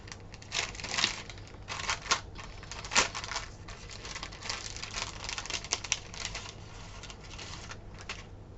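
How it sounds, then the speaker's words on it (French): Metal cutting dies pressed through card stock on a small handmade greeting card: scattered crisp clicks, crinkles and tapping bursts at close range, with one sharper snap midway, quiet overall and with no talking. "je vais utiliser donc des découpes de dies"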